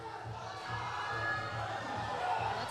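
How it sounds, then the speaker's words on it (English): Spectators at a deadlift competition cheer and shout encouragement, a swelling, noisy crowd roar with voices mixed in that grows a little louder partway through. "the best part are all these people coming out to just cheer him on while he goes"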